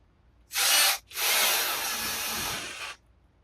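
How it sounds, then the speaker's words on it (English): A power drill drives a screw through a back slat of an outdoor chair: one short whirring burst, a brief pause, then a longer steady run of about two seconds, loud and close with no talking. "And then I could drill and place a screw at the bottom."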